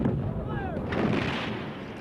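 Artillery bombardment from the Korean War rolls in as deep, booming rumbles and bursts, heavy and continuous across the short stretch.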